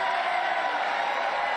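Broad, dense roar of a large rally crowd at a CPAC political event, sustained cheering and whooping mixed with indistinct voices, loud and continuous before cutting off abruptly.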